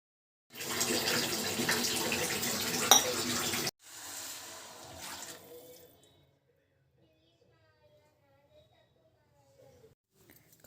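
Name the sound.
water poured into a cooking pot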